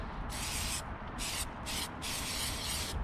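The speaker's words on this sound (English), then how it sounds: "I'm gonna just do this real lazy style overspray on the spokes probably" Short hissing bursts from a clear-coat spray can misting overspray onto the spokes of old school Cragar Star Wire 30-spoke 15-inch wheels, four separate pulls of the nozzle in quick succession, close and fairly quiet, with no talking.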